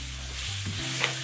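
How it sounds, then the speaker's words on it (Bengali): Flour is stirred and roasted with fried onions in a pan, a brief close scrape of a spoon over a soft steady sizzle, with a low hum underneath. "ময়দাটা খুব ভালোভাবে কষিয়ে নিয়েছি"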